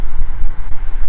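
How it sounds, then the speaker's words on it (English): Wind buffets a phone microphone outdoors, loud low rumbling gusts that swell and dip in uneven pulses, ending with a brief dropout. "It must be windy there because you keep cutting out."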